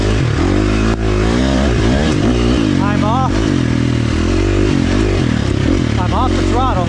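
A 2023 KTM 350 XC-F four-stroke dirt bike engine rumbles loud and close throughout, its pitch rising and falling as the throttle opens and closes. A rider's voice talks over it.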